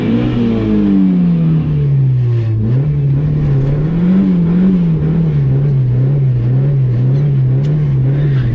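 A big-turbo 1.8T Mk2 VW GTI launches at a drag race, its engine roaring loud and close, the pitch sagging at first, then holding a steady strained drone.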